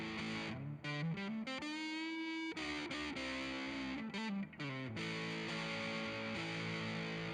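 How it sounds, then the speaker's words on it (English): Heavily distorted electric guitar through an MXR Custom Badass 78 Distortion pedal at full gain, playing chords and sustained notes, loud and continuous, with a thick, broken-up crunch throughout. "I got the distortion all the way up, so yeah, it's pretty broken up"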